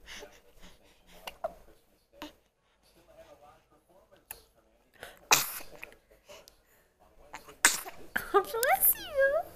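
A baby sneezes in a home setting: small, sharp sneezes burst out amid quiet breathing and soft adult talk, close and intimate.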